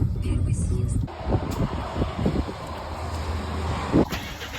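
Road noise from a car on a long drive home to Kyiv during wartime, a steady low rumble with wind buffeting throughout, some faint voices murmuring under the engine drone.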